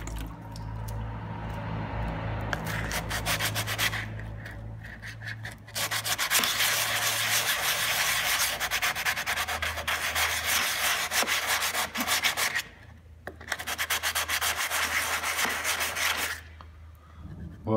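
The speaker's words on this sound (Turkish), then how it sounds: "Sulu zımpara." Sandpaper scrubs back and forth on the wet body panel of a Suzuki Carry, a close, continuous rhythmic rasping with short pauses between strokes.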